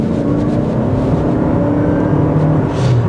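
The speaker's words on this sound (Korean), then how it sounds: "이제 킥다운 같은 거 잠깐 해보면요" A 2024 Lexus ES300h hybrid with a four-cylinder engine under kickdown during city driving gives a steady, loud engine drone heard from inside the car, holding a constant tone.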